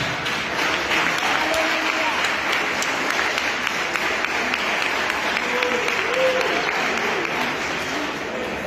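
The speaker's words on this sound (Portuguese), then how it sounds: "Podeis assentar e exaltar o Rei Jesus com as palmas" A large congregation at a church men's congress applauds continuously, a dense, steady wash of clapping with voices mixed in.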